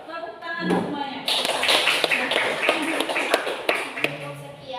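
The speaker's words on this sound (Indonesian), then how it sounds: "tepuk tangan semuanya" A school class audience breaks into dense, close applause lasting a few seconds. Speech is heard briefly before and after the clapping.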